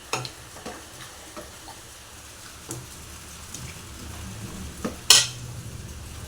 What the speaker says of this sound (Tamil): நல்லா கிண்டி விட்டுக்கணும்